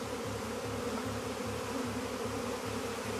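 A dense swarm of bees hums close by outdoors in the wilderness, a steady, throbbing buzz with rapid regular pulsing that continues without pause.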